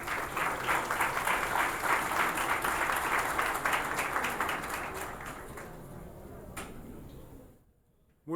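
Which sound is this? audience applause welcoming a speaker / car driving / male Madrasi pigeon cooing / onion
audience applause welcoming a speaker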